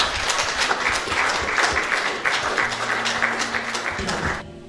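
Audience applause at a Sicilian poetry and song event, a crowd clapping steadily at moderate volume before tapering off near the end, with faint tonal sounds under it.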